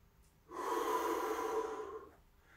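A single deep inhale during a stretching routine, drawn steadily through the nose for about a second and a half, close and airy, beginning and ending in near silence.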